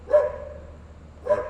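Stray dogs sheltering from the rain outside a supermarket in Northeast Brazil, giving two separate sharp barks about a second apart, fairly close and loud against a low background hum.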